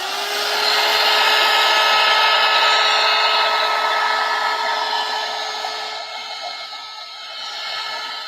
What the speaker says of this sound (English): But so this is just like a heat gun.